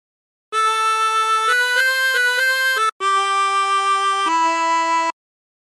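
A 24-hole tremolo harmonica plays The Battle Hymn of the Republic in sustained, reedy chords that shift in a few steps, loud and close, with one short breath gap.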